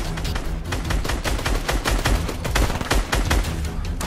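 Rapid gunfire in a Fortnite match, dense bursts of overlapping automatic shots cracking close and loud, nearly continuous for several seconds with no talking.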